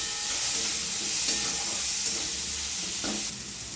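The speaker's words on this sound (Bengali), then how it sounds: "ভালো করে নেড়ে ভেজে নেব।" Carrots and beans fry in mustard oil with salt and turmeric in a pan, a steady close sizzle with scraping stir strokes throughout, no talk.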